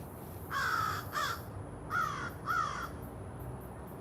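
Crows caw from the trees in a garden, four harsh calls in two pairs at moderate distance, then a quiet outdoor background.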